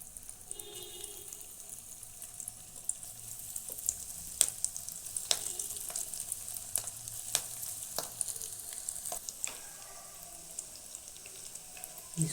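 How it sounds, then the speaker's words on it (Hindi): Soya chunk nuggets deep frying one by one in hot oil, a quiet, steady sizzle broken by sharp crackles and pops at irregular intervals. "अब हम फ्राई कर लेते हैं। अब मेरा तेल गरम हो गया है। अब इसको हम एक एक डाल लेते हैं।"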